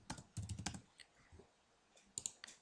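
Someone types a second player's name on a computer keyboard, a close, fairly quiet burst of rapid clicks, then a pause and a few more scattered keystrokes near the end.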